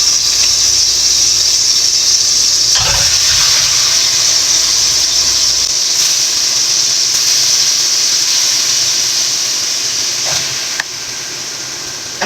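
Oxtails brown over low heat in a small pan, giving a loud, continuous hissing sizzle that holds steady, with a couple of faint clinks along the way.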